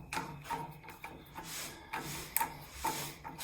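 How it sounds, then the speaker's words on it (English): Slow rubbing, faintly rasping metal scrape as an oiled screw is worked back and forth in the threads of a pellet stove glass door, with repeated strokes at a steady rhythm, close and fairly quiet. "move it back and forth and get that oil working in those threads"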